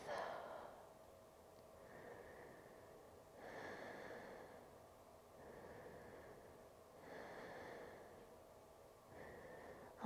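Slow, deep breaths during a yoga upper-body stretch, with long airy inhales and exhales alternating at an unhurried pace, close and soft, and no talking.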